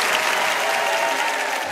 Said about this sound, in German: Und jetzt muss man auch mal einen großen Applaus machen für die Musiker, die hier dabei sind.